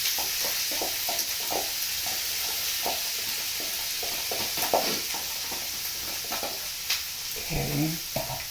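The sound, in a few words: onions sautéing in butter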